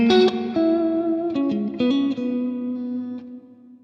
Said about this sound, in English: I can bring in my reverb.